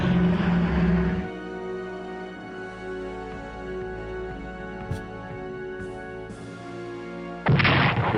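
Naval artillery fire in the Strategic Command WW2 Pacific war game: a loud booming blast at the start, a low rumbling lull with a faint sharp click, then another heavy blast at the end, with no talking.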